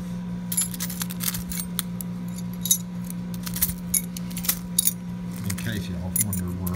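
Scrap keys stamped with a shop name being handled, repeated metallic jangles and clinks over a steady electrical hum, close and fairly clear.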